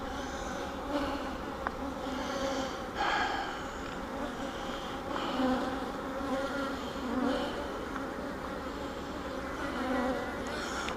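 Honey bees buzz in an open hive, a dense, steady, close hum that swells and eases gently throughout, with no voices over it.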